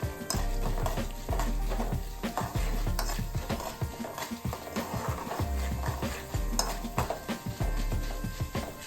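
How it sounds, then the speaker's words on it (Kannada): Semolina with chana dal and urad dal is stirred and roasted in a pan for vegetable upma, a quick run of scraping spoon strokes against the metal over a soft, steady sizzle, close and clear. "ರವೆ ಹಾಕಿ ಹುರ್ಕೊಂತ ಇದ್ದೀನಿ."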